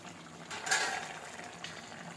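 Country chicken simmering in a pot, a soft continuous bubbling with a brief louder burst partway through.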